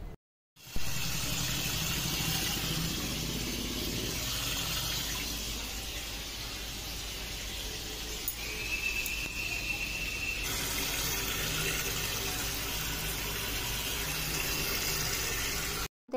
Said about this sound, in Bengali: দেখো এবার আমি জল ভরে নিচ্ছি, বোতলেও জল ভরে নেব আর ওদিকে বালতিতেও জল ভরে নিলাম